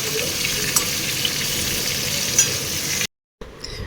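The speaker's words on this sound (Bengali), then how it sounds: "এখন আলু ভাজছি লবণ হলুদ দিয়ে" Potatoes frying in a pan with salt and turmeric give a continuous close sizzle and crackle with light stirring, then cut to brief silence before faint kitchen sounds return.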